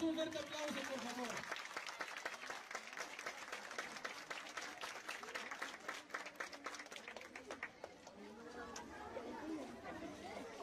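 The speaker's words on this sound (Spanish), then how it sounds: "Vamos a darles un fuerte aplauso, por favor." An audience claps at a school gathering, with applause rising amid lively crowd chatter and voices, then thinning as talking takes over.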